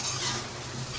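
Cooked rice is tempered and stirred in a hot pan, a dense close sizzle with scraping stir noise filling the short moment, loud and steady with no talk.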